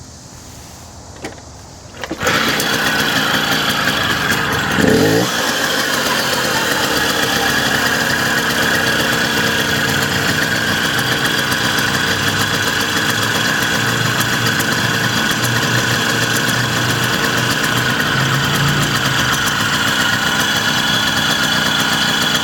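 A 1979 Puch Maxi two-speed moped engine, choke on, catches after a brief quiet moment and then holds a loud, steady, buzzing idle close by for the rest of the time.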